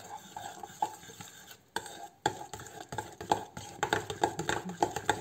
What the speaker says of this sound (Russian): Все это немножко перемешиваем